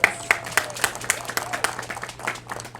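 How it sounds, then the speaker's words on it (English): Sparse audience clapping at an outdoor Juneteenth celebration at a museum, a handful of distinct nearby claps over a low hum, thinning out within a few seconds. "Round of applause."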